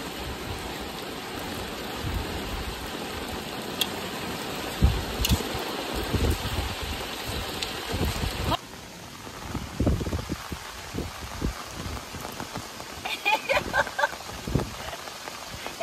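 Steady rain falls outdoors on a rainy day, a dense hiss with scattered drops and patter that thins after a sudden drop in level midway; some faint voice may come through.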